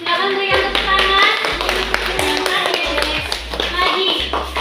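A class of children claps hands in a classroom, with a steady patter of overlapping claps and taps, while kids' voices chatter underneath and a low hum recurs.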